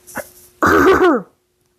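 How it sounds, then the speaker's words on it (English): A single close, forceful throat clearing, a rough harsh rasp lasting about half a second, preceded by a brief small vocal sound. "I just really needed to clear my throat"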